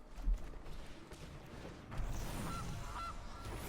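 A goose from the video game Magic: The Gathering Arena gives a couple of short nasal honks, fairly faint, over a low background rumble of game sound with no talking.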